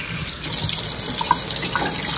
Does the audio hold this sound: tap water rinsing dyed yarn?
yes